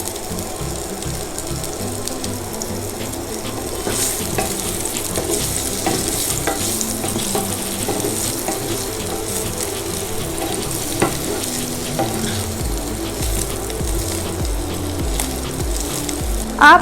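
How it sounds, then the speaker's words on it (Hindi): Potatoes frying in hot oil with turmeric give a steady, dense sizzle, with stirring and scraping over it the whole time, close and fairly loud. "तेल गरम हो चुका है। अब इसमें हम आलू को डाल देंगे।"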